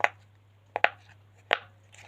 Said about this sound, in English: Next I have this really cool purple poppet.